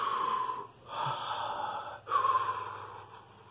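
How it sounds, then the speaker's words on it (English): Deep, slow breaths taken to calm down, three long audible inhales and exhales in a row, close and soft with short pauses between them. "Take three big deep breaths."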